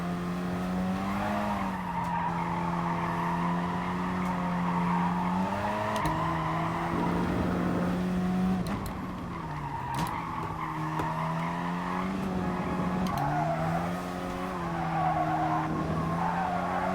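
Race car tires squeal and skid in long sustained bursts as the car brakes hard and late into a corner in Gran Turismo Sport, engine note rising and falling steadily underneath, loud and close throughout.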